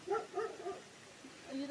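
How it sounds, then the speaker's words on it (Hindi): Dogs bark and yip in short bursts at night, a few quick barks then a softer whine, faint and somewhat distant, heard from outdoors while walking. "कुत्ते भौंक रहे हैं हमको देख के"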